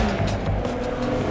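Ferrari F12tdf engine accelerating hard on a race track with a long straight, a loud sustained roar close up, while a voice talks over it.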